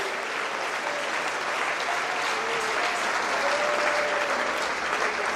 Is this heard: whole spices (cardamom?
no